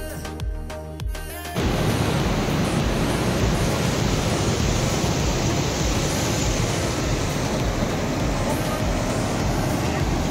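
Floodwater rushing at a Ganesh idol immersion site during Ganesh Chaturthi, a loud continuous roar that starts abruptly after a short opening and stays steady throughout.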